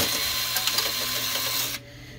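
A screw is backed out of a Lexmark Pro915 printer with a power driver, a loud continuous whirring buzz for nearly two seconds that cuts off abruptly, followed by quiet.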